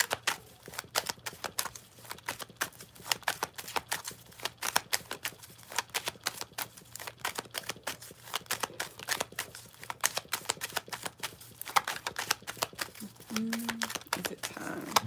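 Tarot cards being shuffled by hand, a steady run of quick dense riffles and flicks throughout, close and fairly quiet, with a faint low hum underneath.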